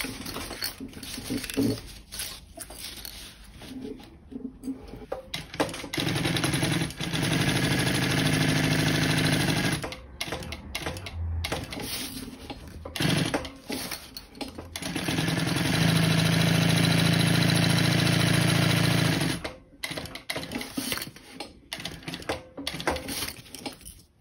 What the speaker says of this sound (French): Nous allons coudre tout le long du rectangle avec un point court.